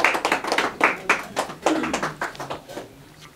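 Sparse hand clapping from an audience at a Pakistan's Got Talent audition in Islamabad, a handful of distinct, uneven claps close by that thin out and fade over a few seconds.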